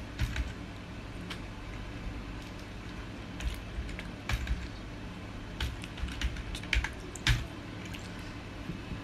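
Someone types a new password on a computer keyboard, irregular bursts of soft clicks and key taps close up, sometimes quickening, with a low steady room hum beneath and no talk.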